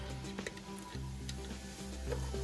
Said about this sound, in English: Add the mixture of the carrots and the celery in with our onions here.